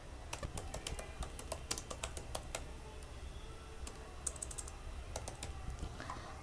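Quick, light clicking of a computer keyboard as PHP code is typed, irregular bursts of keystrokes with short pauses, close and fairly quiet, no voice over it.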